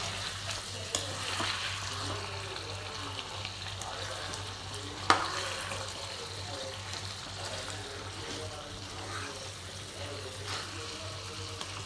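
Chicken shawaya sizzles and fries steadily in a pan while being turned over, with light scraping and clinking of a utensil and one sharper knock partway through.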